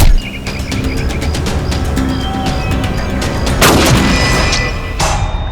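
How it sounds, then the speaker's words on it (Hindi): A gunshot rings out in a Hindi TV crime drama, a sharp loud burst near the middle set against a dense, busy background with birdlike chirps and ongoing ambient noise. "गोली किसने चलाई"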